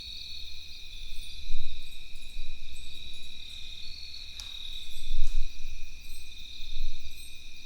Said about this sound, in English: The bugs are going to get super loud